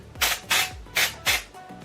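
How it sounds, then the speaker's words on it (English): Four short hissing bursts of Garnier Whole Blends dry shampoo aerosol in quick succession, each about a quarter second, close and fairly loud with brief pauses between. "So I'm just going to shake it up and just spray"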